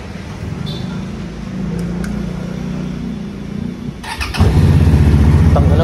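FKM Coolser 500cc motorcycle fitted with an aftermarket exhaust pipe: a low engine rumble idles steadily, then gets noticeably louder and deeper partway through.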